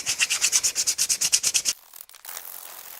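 Wood being hand-sanded for a phone holder: about fifteen steady, rhythmic rasping strokes, close and fairly loud, then a brief lighter scrape and soft rustle.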